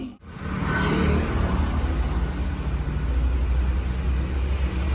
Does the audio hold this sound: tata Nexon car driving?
yes